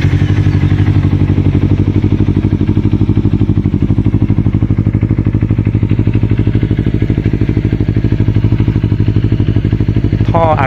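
Kawasaki Z300 motorcycle engine running steadily with a loud, even low throb and rattling clatter from start to finish, close by and with no other sound.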